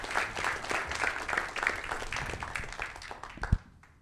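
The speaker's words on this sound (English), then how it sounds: "round of applause for Peter" An audience applauds a speaker at a gene therapy clinical trials conference session, a steady wash of many hands clapping at moderate distance, easing off toward the end with one louder clap near the close.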